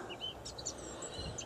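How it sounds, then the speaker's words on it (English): Birds sing outdoors in the English countryside, a few faint, high chirps and short twittering calls scattered over a low background rumble, quiet and at a distance. "Birds are singing."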